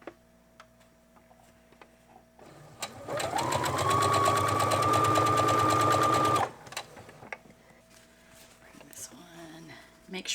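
Sewing machine stitching jelly roll strips for a beginner quilt top, a steady, loud, fast mechanical whir running for about four seconds at close range, with quiet handling noises before and after.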